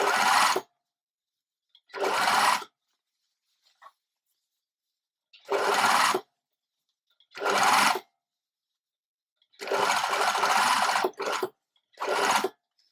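Sewing machine edge stitching a culottes pocket lining in short bursts, about seven runs of a second or so each, separated by silent pauses, loud and close.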